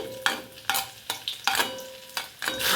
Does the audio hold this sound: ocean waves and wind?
no